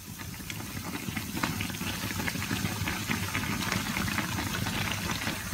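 Strips of youtiao dough deep-fry in hot oil, giving off a dense, steady bubbling crackle until golden on both sides. The frying is close and continuous, with no talking.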